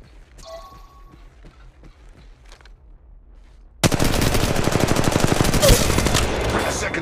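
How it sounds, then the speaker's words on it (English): Enemy squad gunfire in the Apex Legends Mobile video game: after a few seconds of quieter footsteps and game sounds, a loud sustained burst of rapid automatic fire breaks out and continues to the end. "second squad is firing at us"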